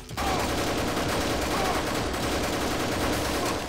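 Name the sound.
machine gun fire in the video game Deus Ex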